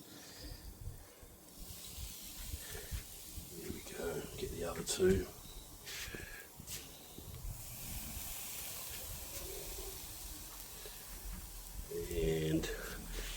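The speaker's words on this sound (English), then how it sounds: "listen to the sizzle." Ribeye steaks sizzle over hot barbecue coals with a soft, steady hiss and occasional louder spits as meat is added, while a person talks nearby.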